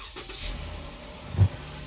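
A car with a 3.6 engine is started after a thermostat replacement and a cleared P0128 code. There is a low rumble, then a brief, loud starter-and-catch burst as it fires.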